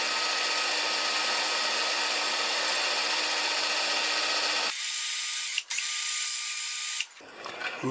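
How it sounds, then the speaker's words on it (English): A power drill with a small bit boring into a stuck bolt on a 6HP Craftsman mower: a loud, continuous, close high whine that shifts in tone partway through and then cuts off near the end. "I want to drill that with a smaller drill bit first"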